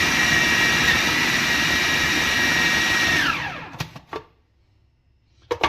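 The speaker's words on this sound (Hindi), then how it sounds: "सारा चिकन उतारने के बाद मैं इसमें 2 हरी मिर्चें डालूंगी और इसको चॉपर करूंगी" An electric chopper whirs steadily and loudly as it minces chicken drumstick meat with two green chillies, then winds down and stops, followed by a few brief clicks and knocks.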